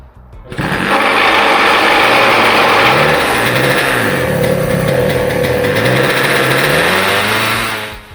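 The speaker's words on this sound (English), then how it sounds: "the cart was running like garbage and it wouldn't idle" An old Tony Kart go-kart engine runs rough and unsteady, a loud buzzy two-stroke drone close by that rises and wavers without settling into an idle, then cuts off at the end.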